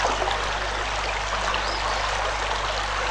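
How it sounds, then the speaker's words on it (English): A brook flows steadily in the video game Anna, a continuous bright rushing and trickling of water, close and even throughout with no voices. "Brook."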